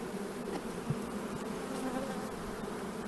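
Honeybees swarm around an opened hive during a queen check, a dense, continuous buzzing hum close by with occasional louder passes of individual bees.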